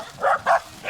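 Dog barking in a park in Gunma, Japan: two short, fairly close barks in quick succession, with a third starting at the end.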